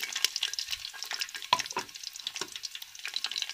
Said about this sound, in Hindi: ये घी मैंने देगची में डाल दिया है, घी हमारा गर्म हो गया है। अब मैं इसमें प्याज शामिल कर दूँगी।